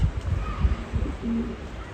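Pigeons cooing inside a coop on a windy, rainy day, soft low throaty coos rising and falling in short pulses, close by, with a faint background hiss.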